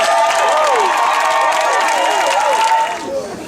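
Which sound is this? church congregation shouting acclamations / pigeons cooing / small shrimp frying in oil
church congregation shouting acclamations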